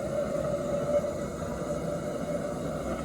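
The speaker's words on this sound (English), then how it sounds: "That's the burners working absolutely correctly. You can hear them, they've got a bit of a roar to them." Gas burners on a Maxitrak 1.5 inch Allchin model traction engine roar like blowtorches, a steady close, continuous rushing hiss with a faint tonal hum running throughout.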